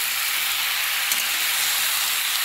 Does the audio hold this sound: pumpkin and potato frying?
yes